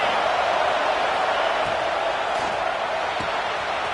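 Stadium crowd noise from the College Football 26 video game, a dense, loud, continuous roar of fans during a red zone defensive stand, steady and unbroken with no distinct voices standing out.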